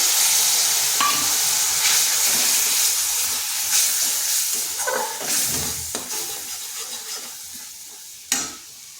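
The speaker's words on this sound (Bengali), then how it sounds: "সামান্য একটু জল দিচ্ছি" Bitter gourd masala sizzles steadily in a pan as a little water goes in, making a loud continuous hiss with scattered scrapes and a sharp clink near the end, and no voices.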